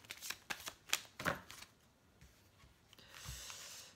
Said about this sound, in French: je vais tirer une petite carte de l'amour universel